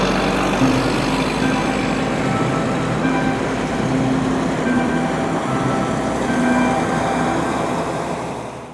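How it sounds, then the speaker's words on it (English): A CSX empty coal train rolls steadily past in Atlanta, a continuous, fairly loud rumble with faint wheel squeals that holds evenly and eases off at the very end. "the CSX empty coal train started moving"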